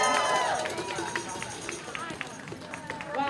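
Crowd at a Hands Off protest rally in Brattleboro cheers and whoops in a noisy, continuous wash of voices, with scattered claps and shouts and a speaker's voice over it.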